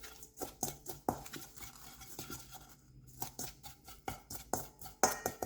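Tofu stirred with salt and nutritional yeast, producing a steady run of light scraping and tapping clicks from a utensil against the bowl, close and fairly quiet.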